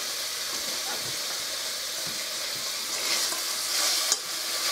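Beef, bacon and stew ingredients roast and sizzle in an oiled pan and pot, a steady close hiss of frying that swells slightly toward the end, with a brief clink near the finish.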